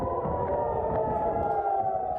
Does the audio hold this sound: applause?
no